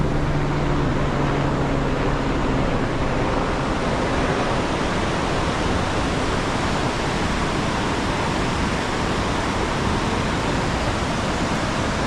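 Fast mountain river rushing along the trek from Govind Ghat to Govind Dham, a loud, steady broadband roar of churning water with no break, close by and alone.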